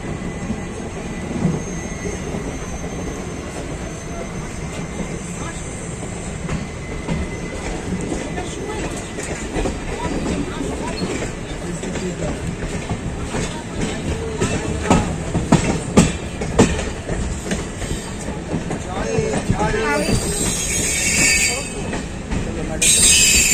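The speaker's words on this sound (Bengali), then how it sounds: "আমাদের ট্রেন হাওড়া থেকে 114 কিলোমিটার জার্নি করে এখন এসে পৌঁছেছে খড়গপুর স্টেশনে" A train rolls steadily along the rails with rumbling, rhythmic clatter and squealing wheels, ending in a high metallic screech of brakes as it arrives at Kharagpur station from Howrah; faint voices murmur nearby.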